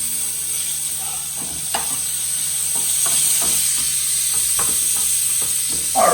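Chicken cutlets for chicken piccata frying in a pan after being flipped, a continuous close sizzle with occasional soft scrapes and pops, no talk.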